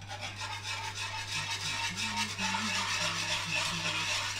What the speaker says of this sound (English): Whisk it, baby.